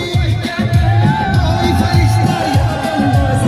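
A crowd at a political welcome event in India breaks into sustained loud applause and cheering, dense clapping with occasional whoops, while a voice carries over a public address system.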